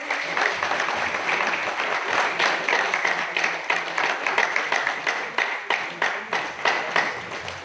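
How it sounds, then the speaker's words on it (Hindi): Loud, sustained applause from an audience at an award ceremony honouring families of soldiers martyred for the country, a dense steady wash with sharper individual claps standing out near and rhythmic toward the end. "जोरदार तालियां"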